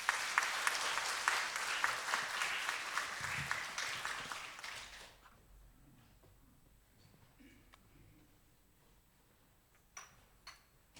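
A church congregation claps loudly to welcome missionaries and a visiting interpreter at a sending service. The dense applause lasts about five seconds, then fades to a quiet room with a few faint taps.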